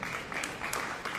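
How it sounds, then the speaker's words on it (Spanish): Congregation applauding in a church service, a dense, steady wash of clapping heard from a distance, moderately quiet throughout. "Pues da un aplauso a Dios por esto."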